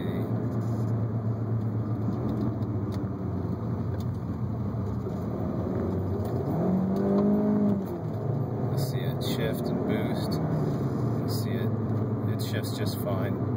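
A 2003 Audi A4 Avant B6 with Quattro and a tiptronic automatic downshifts in sport mode, the engine drone rising and falling under continuous road noise, with talking over it.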